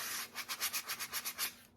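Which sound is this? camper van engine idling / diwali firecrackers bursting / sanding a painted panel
sanding a painted panel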